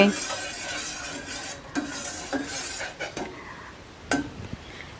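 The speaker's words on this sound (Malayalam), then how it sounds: "പിന്നീട് അത് ചെറുതായി ഒന്ന് ഇളക്കി സ്റ്റൗ ഓഫ് ചെയ്യുക." Flower petals stirred briefly in a hot pan on a stove, a close spoon scraping and tapping against metal over a soft steady hiss, with a few sharper clinks.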